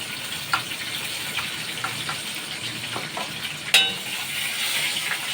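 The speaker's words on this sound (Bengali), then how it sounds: "একটু তেল দিলাম, দিয়ে গরম মশলা আর লঙ্কা ফোড়ন দিলাম" Whole garam masala and chillies sizzle in hot oil for the Bengali dai chicken, a steady crackling hiss with a few sharp pops and one louder spatter near the end, close and with no talking.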